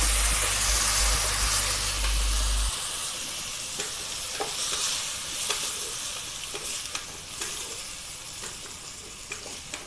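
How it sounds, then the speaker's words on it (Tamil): Soaked moong dal hits a pan of sautéed shallots, dried chillies and garlic with a loud sizzle, then a spoon stirs it through a continuous frying hiss with light scraping clicks. "நல்லா கிளறி விட்டுருங்க."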